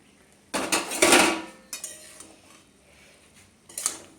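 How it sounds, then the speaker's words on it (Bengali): A metal lid comes off a pot of ash gourd greens and potato chorchori with a sharp clatter and scrape, followed by a few smaller knocks and a last clink. "দেখো পাঁচ মিনিট পর আমি ঢাকাটা খুলছি"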